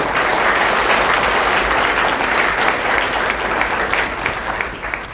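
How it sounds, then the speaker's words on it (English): Warm, sustained audience applause at a policy panel breakfast, dense and loud throughout, tapering slightly toward the end, with no talking over it. "give a warm round of applause to Captain Davis"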